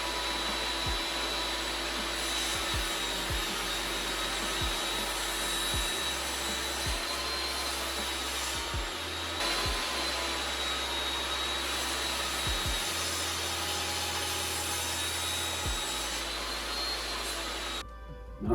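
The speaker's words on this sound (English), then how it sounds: "We'll cut the first miter now." A saw cuts a miter joint in wood with a steady, continuous whirring motor drone that runs almost unbroken and close by, stopping abruptly near the end.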